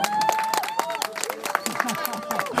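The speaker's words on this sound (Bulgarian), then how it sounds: "Аплодисменти за него." An audience at a beatbox battle final applauds and cheers for a beatboxer, with dense clapping under crowd noise and a voice over it.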